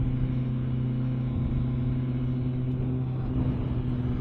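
A Kawasaki ZX14R or Yamaha MT-10 fitted with new sprockets drones steadily on the road, its engine a loud, continuous low hum with stable tone and rumbling wind underneath, no speech.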